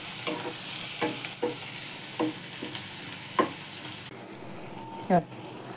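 Masala Maggi noodles sizzle in a pan while being stirred and sautéed, with a constant frying hiss broken by repeated scraping strokes of a spoon and a clink near the end.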